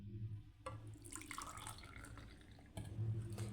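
Hot milk is poured for morning coffee in an Algerian kitchen, giving a soft, close liquid trickle with a low steady hum underneath and a short gap before the flow resumes.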